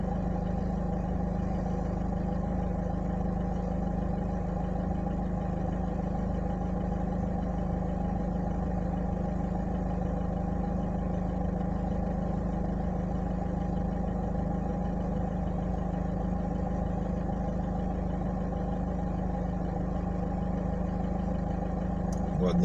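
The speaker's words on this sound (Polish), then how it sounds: "Ładnie ten mój silnik pracuje, słychać." A car engine idles steadily with an even low hum and drone, unchanging for a long stretch, close by.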